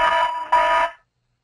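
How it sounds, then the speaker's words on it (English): An Android tablet's anti-theft alarm from Symantec Mobile Security blares close and loud in two harsh buzzing bursts before cutting off. "If you're like me, you're interested in what the alarm sounds like. It is quite loud and quite annoying"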